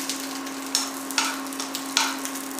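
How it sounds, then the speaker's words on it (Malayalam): Dry fruits roasting in ghee in a pan while making pineapple payasam give a steady close sizzle with a few short stirring scrapes, no voices. "ഡ്രൈ ഫ്രൂട്ട്സ് ഞാൻ നെയ്യിൽ നന്നായിട്ട് വറുത്ത് കോരി മാറ്റി വെച്ചിട്ടുണ്ട്."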